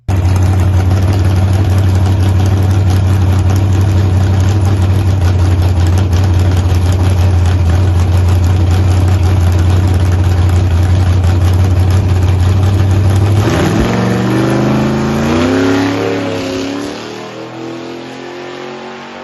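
A drag race car on a test pass, engine droning steadily at high load for a long stretch, then a rising, sweeping rev as it shifts and builds speed before the sound eases off at the end.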